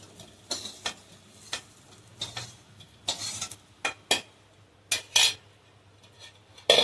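Fried soybean chunks lifted out of a pan with a metal utensil: a series of sharp clinks and scrapes against the pan, spaced irregularly over a faint background sizzle, close and alone.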